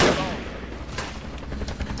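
Sustained gunfire from the military shooter Project Reality, a dense, rumbling fusillade that starts loudest and carries on steadily for two seconds with overlapping shots; no voices are heard.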